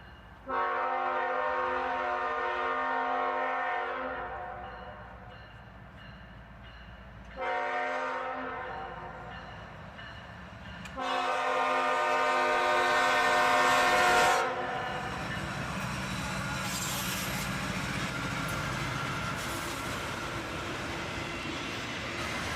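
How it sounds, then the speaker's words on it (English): A northbound CSX freight train of auto racks passes at dawn with a single locomotive on the head end, sounding a loud multi-tone horn in repeated blasts over a steady rumble and rolling wheel noise. "Northbound auto racks at dawn"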